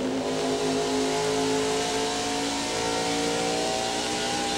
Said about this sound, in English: While Jeff Gordon goes up, he'll get a better run off the corner